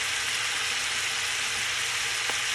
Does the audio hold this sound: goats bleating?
no